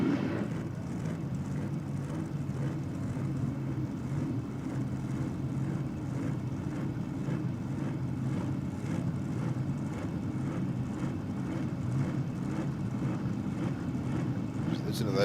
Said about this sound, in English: Listen to those cars coming into stage on the supercharger.